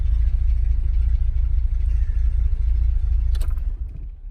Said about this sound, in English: So anyway, I just needed to see the engine run.